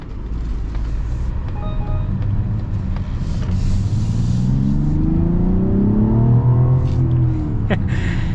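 A 2025 Mazda CX-70 turbocharged inline-six pulls hard from inside the cabin, engine note climbing steadily in pitch over a constant road rumble, smooth and fairly loud with no talk over it.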